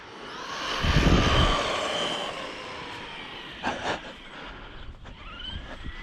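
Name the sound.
model airplane engine, a 40-74 motor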